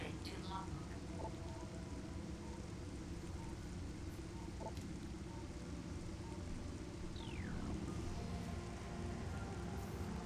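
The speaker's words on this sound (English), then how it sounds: "Seeing the rain hit Samus's visor. It's such a good detail watching the rain run off of her arm cannon." Steady rain pours down in the Metroid Prime Remastered game on landing at a planet, a dense, even wash of falling drops filling the whole scene with a few faint tonal calls and a brief sweeping tone over it.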